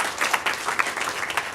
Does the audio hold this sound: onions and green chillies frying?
no